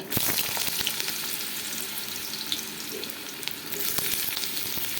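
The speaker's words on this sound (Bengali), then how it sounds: "আমি পটলগুলোকে আগে থেকে তেলে ভেজে নিচ্ছি" Pointed gourd (potol) pieces fry in hot oil in a kadai wok, giving a loud, continuous, close-up sizzle with scattered sharp crackles and pops throughout.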